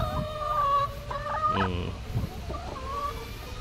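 Dekalb brown egg-laying hens cluck in a coop, several soft throaty clucks and drawn-out calls in an uneven rhythm, close and clear with no talking.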